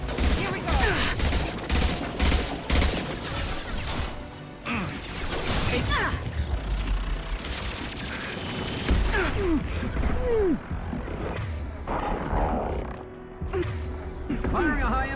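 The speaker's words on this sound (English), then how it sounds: "Firing a high-impact shot." Gunfire in a Mass Effect 2 firefight, repeated sharp shots and bursts crackling in irregular volleys with metallic crashes and creaks between them, dense and loud throughout, with voices calling out now and then.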